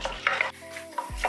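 Chana dal and moong dal sauté in hot oil, giving a soft, close sizzle with quick scraping stirs over about a second.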